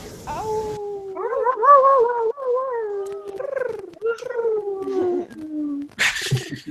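Several people on a group call imitate animals, mostly drawn-out wolf- and dog-like howls that rise and waver and overlap one another, fairly close and loud, ending in a short burst of noise.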